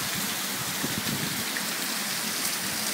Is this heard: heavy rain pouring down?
yes